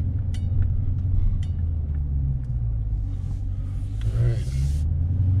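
Interior of a Dodge Challenger being driven on city streets, a steady low road rumble and engine drone continuing throughout, with faint sounds of passing traffic around it.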